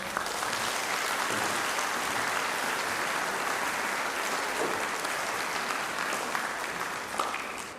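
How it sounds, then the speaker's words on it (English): A school music concert audience gives a long, steady round of applause to thank the stage management crew, a continuous dense patter of many hands that holds even throughout. "Let's give them a big round of applause."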